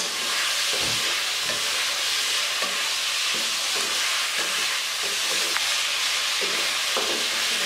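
Chicken sizzles steadily in hot oil for an afghani karahi. The loud, continuous frying hiss is broken by periodic scraping knocks as the pieces are stirred, with no talk.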